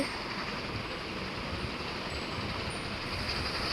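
Steady rumbling of a kerosene-fuelled train in the video game Dead Rails, with a constant broadband roar and faint high whine, continuous throughout with no voices.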